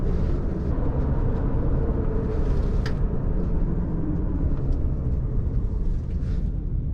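A lifted 2021 Subaru Crosstrek Sport with the 2.5 engine driving on the road, heard as a steady, loud low rumble of road and engine noise from inside the cabin with no break throughout.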